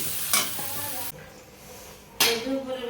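Flat beans fry with garlic in a home kitchen pan, sizzling and hissing with two sharp bursts of stirring or spatula scrapes between quieter crackling.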